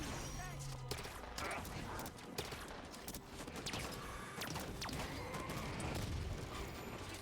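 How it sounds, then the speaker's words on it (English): Incineration cannon shots in Halo 5: Guardians on Legendary difficulty, a dense stretch of repeated gunfire bursts and impacts mixed with game clatter, moderately loud and continuous throughout. "Dancing around incineration cannon shots."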